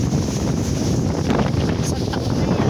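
Strong wind on a city street in Toronto near LRT construction, heavy buffeting rumble battering the microphone loud and close throughout, with faint higher hiss on top.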